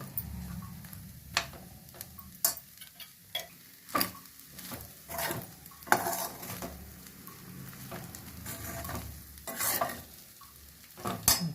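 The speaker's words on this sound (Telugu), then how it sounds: "నెయ్యి వేసి స్టవ్ ఆఫ్ చేసేస్తాను." Drumstick leaf spice powder is stirred with ghee in a pan, with a faint sizzle beneath repeated sharp scrapes and taps of the spoon against the metal, coming in irregular bursts.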